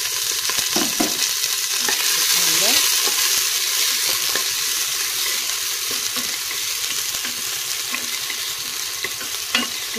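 Chopped large onion frying in meat fat with ghee gives a loud, steady sizzle throughout, broken by faint scraping and clicking of a utensil, no speech.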